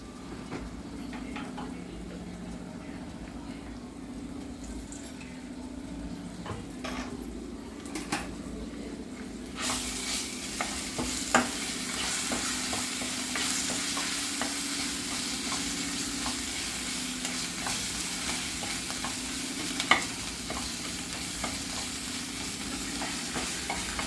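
Amaranth leaves frying in a pan with ginger-garlic paste, a low sizzle that swells louder partway through, with intermittent scraping stirs and faint birdsong in the background.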